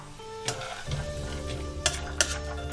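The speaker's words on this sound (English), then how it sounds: "Just 1 tablespoon of oil. Coat the bottom and add the peanuts" Peanuts drop into a tablespoon of oil over low heat for kung pao chicken, with a soft continuous sizzle, a low hum beneath and a few sharp clinks and scrapes of stirring, close by.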